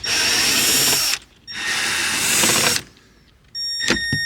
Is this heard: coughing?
no